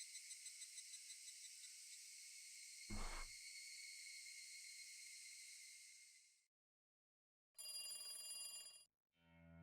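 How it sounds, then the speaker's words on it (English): Phone ringing in the Higurashi: When They Cry video game, a sustained, loud trilling ring lasting several seconds with a brief low thump partway, then cutting off before two shorter ring bursts return. "I thought that was Akasaka's phone for a second"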